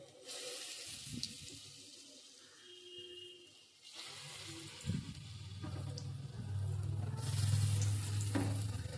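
Masoor lentil fritter batter with gondho pata leaves is lowered spoon by spoon into hot oil in a wok, setting off a broad steady sizzle that swells louder and denser, with occasional soft clinks of the utensil.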